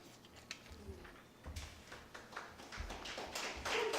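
Scattered hand clapping from an audience at a poetry reading, a light, uneven patter of taps building slightly toward the end, fairly close and without speech.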